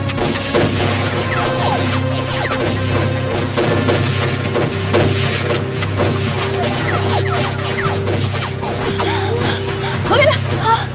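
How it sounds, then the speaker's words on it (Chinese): A gunfire volley erupts in a martial arts film scene, sharp repeated shots and crashes ringing out over a droning score, with frantic voices shouting among the blasts. "开枪！"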